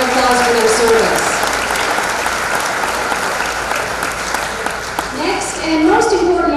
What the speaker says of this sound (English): Let's give them a round of applause for their service.